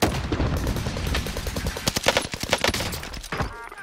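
Enemy gunfire in Call of Duty Warzone on Rebirth Island: loud, close rapid bursts of automatic shots cracking in quick succession, building to a dense volley before cutting off near the end.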